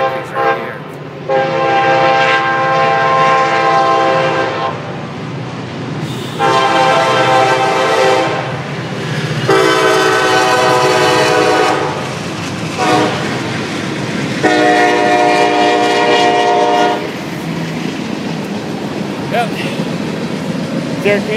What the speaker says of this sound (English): we have a train going through Syracuse right here.